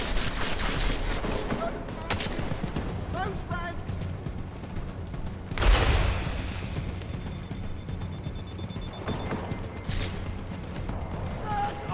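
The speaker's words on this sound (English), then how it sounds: "Yep, gunfire is happening." Gunfire in a stealth video game, a scatter of shots and bursts with a louder boom near the middle, heard under game sounds and an occasional voice.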